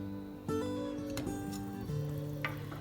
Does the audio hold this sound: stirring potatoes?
yes